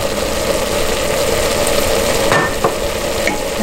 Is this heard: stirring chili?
yes